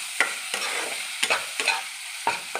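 Spice masala of chilli powder, salt, sugar and chopped raisins for bitter gourd dolma being stir-fried in a pan, with a steady close sizzle and a few sharp scrapes of a spatula against the metal.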